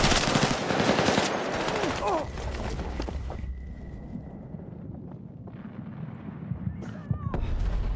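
Rapid automatic gunfire in a combat video game, loud bursts at first that give way to scattered shots, explosions and battle noise, with a voice briefly speaking over it.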